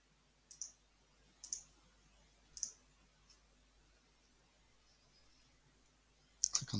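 A computer mouse clicks while someone works in Photoshop: four sharp, faint single clicks spaced about a second apart, then a quick cluster of clicks near the end, over near-silent room tone.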